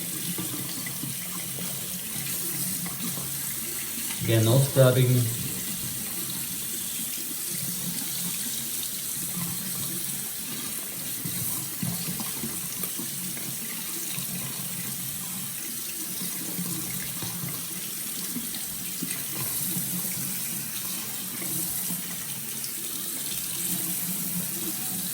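Tap water runs steadily over a Casio G-Shock Rangeman GW9400 watch held under a faucet, a continuous hiss lasting the whole stretch after a brief louder clatter near the start, with a voice briefly speaking.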